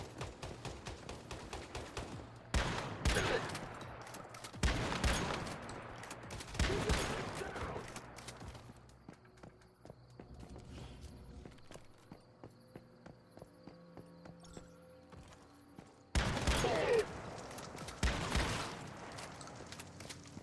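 Gunfire in the video game Once Human: several loud bursts of rapid shots in clusters, separated by quieter stretches with faint clicks and ambient noise.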